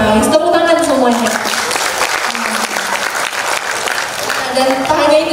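An audience applauds at an interactive dialogue event on nutrition and health, a dense clatter of clapping hands that swells, dips slightly in the middle and picks up again, with voices mixed in.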